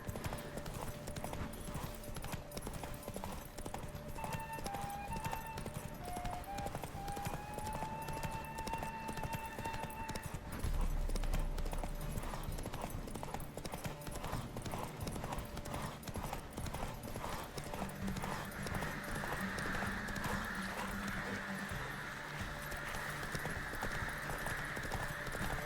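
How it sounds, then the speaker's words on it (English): Horses gallop in a race in The Witcher 3, a continuous rapid clip-clop of hooves with an occasional whinny and faint game music beneath, persisting throughout. "A horse race, why not?"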